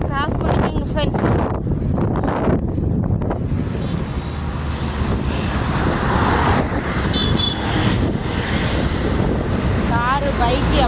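Heavy road traffic roars continuously nearby, with vehicles rushing past, wind buffeting the microphone, and a voice speaking at the start.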